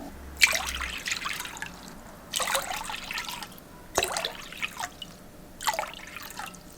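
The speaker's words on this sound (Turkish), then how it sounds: "Üzerinden 5 su bardağı su ekledim." Water is poured from a glass into a mixing bowl holding salt for bread dough, in four separate splashing pours with short quiet gaps between them.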